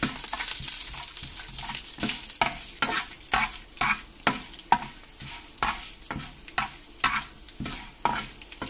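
Cumin, mustard seeds and urad dal frying in oil for a crab apple chutney, with a rapid series of close, sharp stirring scrapes in a quick rhythm over a constant hiss, no voices.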